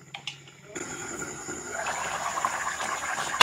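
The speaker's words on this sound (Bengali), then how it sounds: "এখন আমি দিয়ে দিব জল।" Water poured into a pot of fish curry makes a close, rushing gush that swells and grows steadily louder over a few seconds, with no speech.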